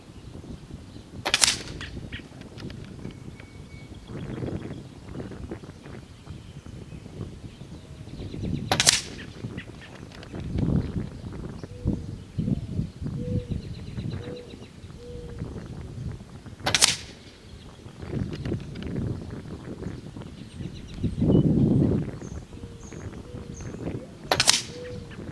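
PCP air rifle with a regulator set near 2600 PSI firing four sharp, loud shots spaced several seconds apart, with faint handling noises and quiet rustling between them.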